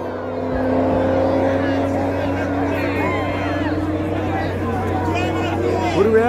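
Audi TTRS race cars launch at a drag strip, giving a loud, sustained engine roar that builds and holds. Crowd noise and an excited commentator's voice sit over the engines.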